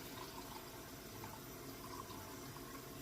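Water sloshes and pours steadily inside a charred oak barrel during a rinse, a continuous close splashing wash with no pauses.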